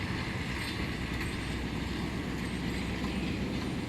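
A Thai passenger train, number 212 from Taphan Hin to Bangkok, roars along the rails from on board, a loud, continuous rumble of wheels and carriage noise with no pauses.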